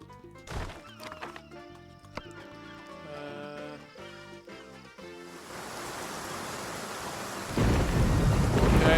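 A thunderstorm in the city-building game Tropico 4 with game music playing, rain and thunder swelling into a loud, steady roar toward the end.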